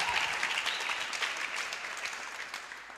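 Church congregation clapping to acclaim the Lord, a dense, steady wash of applause from many hands that continues evenly throughout at moderate distance.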